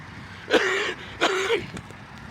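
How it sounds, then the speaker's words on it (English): A person coughing, two loud, close, harsh bursts about a second apart, followed by a faint short catch of breath in an otherwise quiet indoor space. "y'all hear that cough?"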